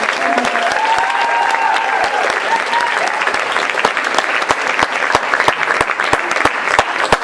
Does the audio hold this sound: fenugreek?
no